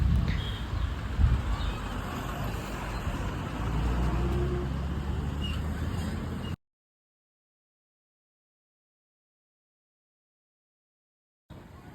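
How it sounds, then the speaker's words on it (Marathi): Heavy road traffic at night near Birsa Munda Chowk on the way to the Dahanu Mahalaxmi fair, a dense low rumble of engines and passing vehicles heard from inside a moving vehicle, cutting to silence partway through. "ट्रॅफिक तर खूपच आहे"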